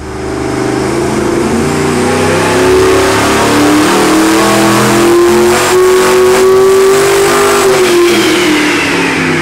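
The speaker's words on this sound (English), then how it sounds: "This is our 632 with the mirror image turbochargers." A 632-cubic-inch big-block Chevy with mirror-image twin turbochargers, billet intake and stainless headers roars on a dyno, revving hard and climbing in pitch as it pulls, loud and continuous throughout.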